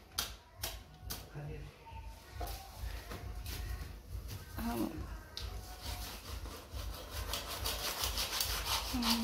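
Rough rasping strokes of a new knife cutting through a large fish at a lakeside village market in Sri Lanka, irregular and close, with scattered clicks, knocks and background voices.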